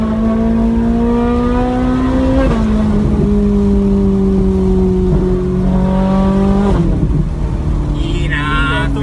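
A Ferrari engine revs loud and close in steady rising and falling pulls, its tone climbing and dropping through several held revs over a constant rumble.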